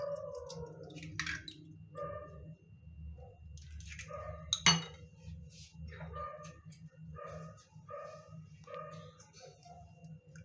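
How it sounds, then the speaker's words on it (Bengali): An egg whisked in a bowl in a home kitchen, faint quick clinks of a utensil against the bowl in an uneven rhythm, with a dog barking briefly in the background. "একটা ডিম আমি ফেটিয়ে নিচ্ছি"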